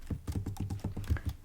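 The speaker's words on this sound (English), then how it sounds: "Sorry, I'm typing really slow, guys. This would not be my normal typing," Quick, uneven clicking of a computer keyboard typed with long nails, soft and close, a steady run of light tapping keystrokes with no talking.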